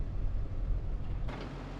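Tractor engine in the Farming Simulator 25 video game, a steady low rumbling drone that holds at an even level throughout, with a brighter mechanical layer joining in near the end.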